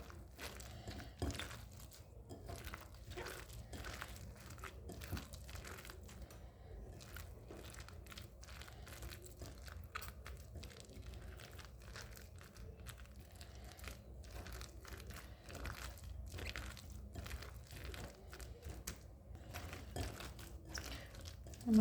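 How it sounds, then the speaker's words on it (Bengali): Slices of bread being broken into pieces by hand in a home kitchen, giving soft, repeated crinkling and tearing crunches at low volume with no talking. "এবার পাউরুটিগুলো ভেঙে দেব।"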